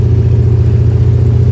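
Chevrolet S10 drag truck's engine idling steadily and loudly up close, a deep continuous rumble with a constant pulsing drone and no voices.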